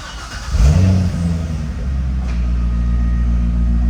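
A C6 Corvette engine revs up in first gear, a loud rising roar near the start that eases into a steady, deep drone as the car rolls on.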